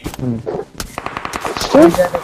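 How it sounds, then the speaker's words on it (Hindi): Rapid bursts of video game gunfire from a hill above crackle in quick succession while voices shout and talk over them, close and loud. "अचानक से हमारे ऊपर पहाड़ी से गोली चलती है"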